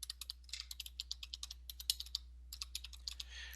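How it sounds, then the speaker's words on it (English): Rapid keystrokes clatter on a computer keyboard as a website name is typed, a steady run of crisp clicks with a brief pause midway, close and fairly quiet with no voices. "Let's type in a website name, okay?"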